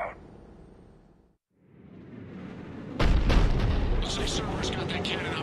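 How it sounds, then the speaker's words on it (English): Cannon fire from a Cerberus emplacement in the Mass Effect 3 video game: a heavy, loud booming blast after a quieter stretch, followed by sustained rumbling and crackling battle noise. "Looks like Cerberus got that cannon operational, Commander."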